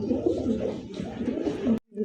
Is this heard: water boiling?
no